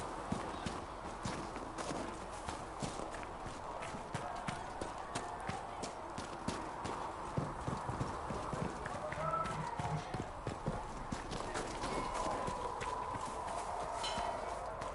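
Horses clip-clopping in the video game Dragon Age: Inquisition, a steady run of close, crisp hoof taps with rhythmic footfalls under ongoing character dialogue.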